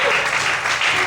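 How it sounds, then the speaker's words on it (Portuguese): A church congregation claps loudly for the Lord during a couples' talk, a brief burst of dense applause. "Será que você pode aplaudir bem forte o Senhor nessa noite?"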